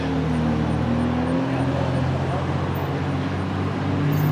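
Classic cars, Triumphs among them, running together on a club tour drive near Lexington, Kentucky: a steady, loud engine and road drone with a low hum throughout, no clear passes standing out.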